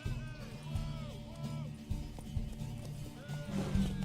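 Hoofbeats of a horse racing toward a tower in The Witcher 3 clip-clop steadily under game music, with a brief whinny and people talking over the running hooves.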